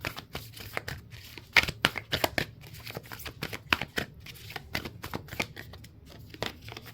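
Tarot cards are shuffled and flicked during a reading, giving quick, papery riffles and snaps in irregular bursts. The sounds are fairly close but quiet, with no talking heard.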